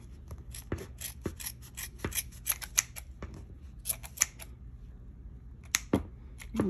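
Scissors snip repeatedly through yarn while trimming a pom pom, a series of close, crisp cuts in an irregular rhythm with short pauses between bursts.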